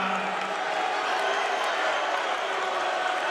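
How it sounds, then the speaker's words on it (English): Basketball arena crowd at a college game, Indiana State at Bradley, swells into a loud, sustained roar of cheering and noise that fills the whole stretch without a break. "Crowd gets loud."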